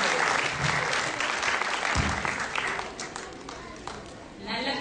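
A debate audience breaks into dense, loud applause, a thick steady roar of many hands that eases off slightly toward the end as a voice comes in.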